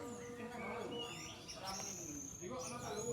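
Orange-headed thrush (anis merah) sings faint, varied whistled and chirping phrases over steady background noise at a bird-keeping venue, with other birds audible around it.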